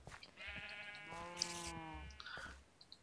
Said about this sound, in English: we're going to have to be very careful with the sheep, Joe.